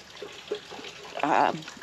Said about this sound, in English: get them some fresh water